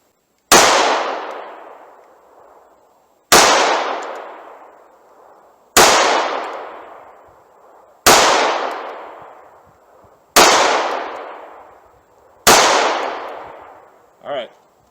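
A Taurus G2C pistol fires 124 grain Hydroshock rounds outdoors, six loud sharp reports spaced a couple of seconds apart, each trailing off in a long echoing decay, with a faint metallic ring after the last.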